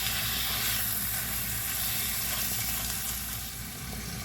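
Ground turkey seasoned with black pepper sizzles in a hot pan while being stirred, a steady, close frying hiss that holds for several seconds without any voices.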